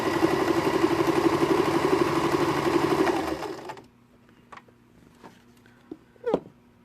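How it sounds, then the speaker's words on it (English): A mechanical sewing machine stitches through two layers of quilting cotton with a fast, even whirring rattle for about three seconds, then stops, leaving quiet handling clicks and a brief knock. "I'm just sewing through 2 layers of quilting cotton right now"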